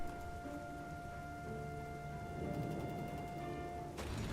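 Steady video-game rain hisses and patters continuously over a constant tonal background hum, with a brief clatter near the end, in Wallace and Gromit: Last Resort.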